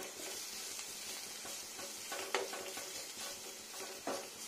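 Bitter gourd fries in a pan with a continuous close sizzle, while a utensil stirs and scrapes through it in a few louder bursts, with no talk.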